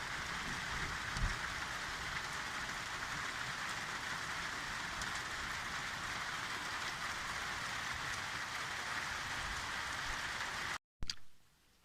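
Steady rain shower falls continuously at an even, moderate level throughout, then cuts out abruptly near the end with a brief thump.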